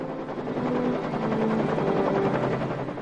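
A helicopter rescuing survivors in the Andes makes a loud, steady rotor drone with a fast chopping pulse that holds unbroken throughout, close and dominant.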